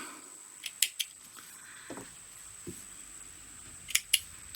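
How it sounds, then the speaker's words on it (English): Sharp scissors snipping through quilting fabric while cutting a Courthouse Steps quilt block, a few quiet, separate cuts spread across a mostly still moment, two close crisp snips near the start and another quick pair near the end. "Snip, snip."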